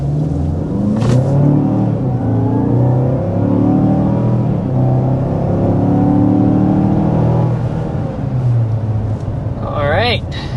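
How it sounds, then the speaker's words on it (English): 2024 Mazda CX-5 Carbon Turbo under hard acceleration from inside the cabin, engine droning and climbing steadily in pitch through the gears, loud and continuous, with a voice briefly speaking near the end. "start with a hard acceleration"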